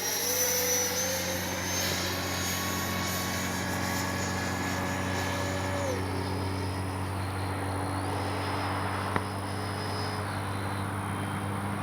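An FMS Rafale 80mm electric ducted-fan RC jet hums steadily and holds a high, sustained whine with shifting tones through the whole stretch, heard continuously with no talking.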